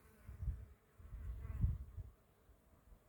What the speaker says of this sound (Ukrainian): бджола, чи шміль, чи оса.